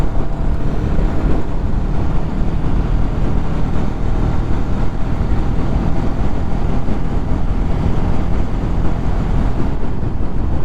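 A Hero Karizma XMR 210 motorcycle climbs an incline in sixth gear, its steady engine drone heavy with wind rush across the microphone, loud and continuous with no talk.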